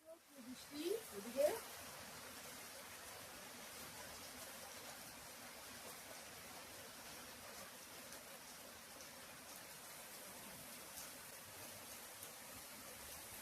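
Heavy rain pours down outside in a steady, faint, even hiss that lasts throughout, after a brief rustle at the start.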